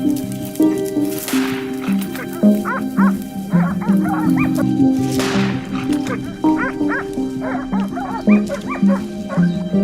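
Kangal and Akbash hunting dogs bark and yip close by in repeated overlapping volleys. Some whimpering and a continuous rumble of activity run underneath.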